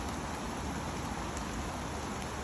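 Steady rain falls on the Appalachian Trail in New York during a thunderstorm, a dense, even hiss of drops close around with no pauses and no voices.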